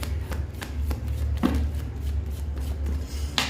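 Tarot cards are shuffled by hand in quick irregular riffles and soft slaps, close and clear over a low steady hum, with one sharper snap near the end and no talking.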